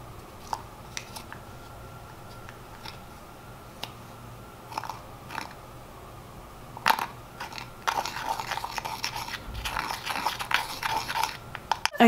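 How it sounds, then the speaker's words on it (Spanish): A spatula crushes a pressed Milani eyeshadow into loose powder, making soft gritty scrapes and crunches that start sparse and turn into denser, louder grinding toward the end, close and without talk. "Y la voy a moler, la voy a hacer polvito."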